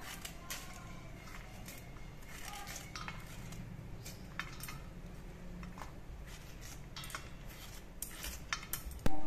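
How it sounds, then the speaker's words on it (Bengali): A metal spoon scrapes seeds from half a papaya with rapid, light clicking and scratching strokes, close and fairly quiet, with a louder knock at the very end. "চামচের সাহায্যে আমি বীজগুলো ছাড়িয়ে নিচ্ছি।"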